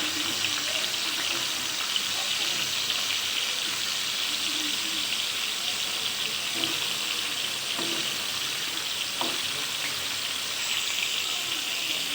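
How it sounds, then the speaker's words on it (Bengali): Pieces of hilsa fish fry in hot oil with a constant, even sizzle and occasional faint pops and crackles, heard close by for a long stretch. "এখানে আমি মাছগুলো ভাজতে দিয়ে দিয়েছি, মাছগুলো ভাজা হতে থাক।"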